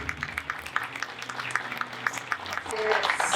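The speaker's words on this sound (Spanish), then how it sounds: "La recibimos con un fuerte aplauso." Audience members at a national education congress clap to welcome a conference speaker, with scattered claps swelling into fuller applause in a hall.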